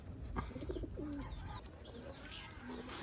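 Pet pigeons coo softly at close range, a few short low throaty calls in a row over a rustling, noisy background.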